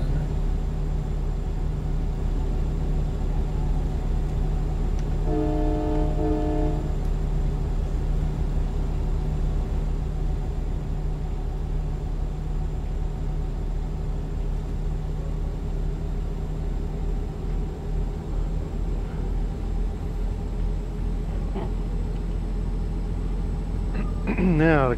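A Freightliner Cascadia truck in a truck-driving video game hums with a steady, low engine drone that barely changes, while people chat over it and a brief tone sounds partway through.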